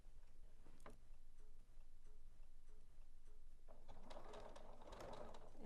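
A Janome sewing machine back stitching fabric: short evenly spaced ticking stitches at first, then a denser, louder whirring burst of stitching near the end, all fairly quiet.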